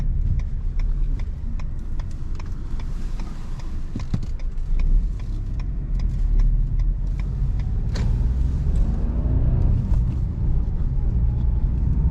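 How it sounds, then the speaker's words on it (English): A 2021 Renault Clio 100 HP engine hums steadily from inside the cabin at night, its pitch climbing as revs rise, with faint clicks and road rumble beneath. "So on higher revs you can hear the engine"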